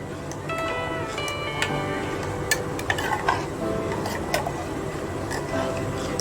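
Rice kheer with water is stirred steadily in a pressure cooker, a busy scraping and clinking of a spoon against metal over a constant background hum, with scattered sharp taps.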